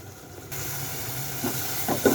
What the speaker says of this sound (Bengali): এখন মশলাটা ভেজে নিই, মানে কষে নিই আর কি